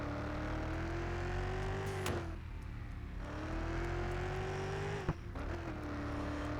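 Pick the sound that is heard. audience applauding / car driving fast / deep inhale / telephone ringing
car driving fast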